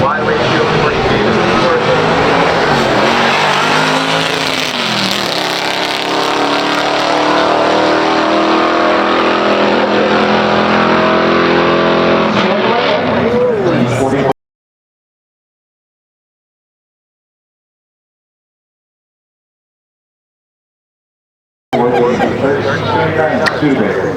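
A 1967 Pontiac GTO with a 400 HO engine and 3.90 gears drag races a 1963 Studebaker Lark R2 at a pure stock drag strip, loud sustained engine roar building and shifting, then a break in sound before the roar returns.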